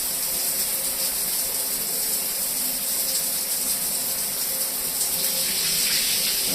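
Sea water rushes and hisses past the hull of a ship rocking in waves, a steady loud wash that goes on without a break.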